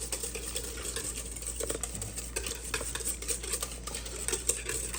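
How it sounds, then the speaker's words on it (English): Eggs and sugar whisked together in a mixing bowl for a Hungarian genoise sponge, a steady quiet scraping and clinking of the whisk against the bowl with faint irregular taps, no talking. "Let's add the eggs. Let's add the sugar. Go ahead and just give it a quick whisk."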